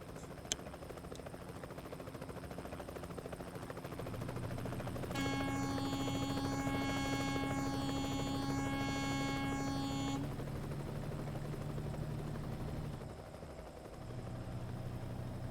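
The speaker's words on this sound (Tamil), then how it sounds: "ஒரு ஹெலிகாப்டர் ஒன்று போகுது." A helicopter passes in American Truck Simulator, a steady droning hum with a bright rotor whine that rises for several seconds mid-pass and then fades back into the low engine rumble of the truck.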